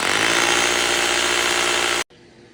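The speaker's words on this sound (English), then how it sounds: "I'm just gonna go about right here in the middle, put a 3/8 hole. I bought this drill at Harbor Freight." A cheap Harbor Freight drill bores a 3/8 inch hole into stamped concrete, a loud, steady grinding whine running for about two seconds before cutting off abruptly.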